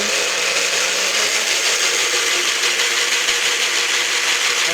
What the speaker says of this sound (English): There'll be a noise. Blender noise.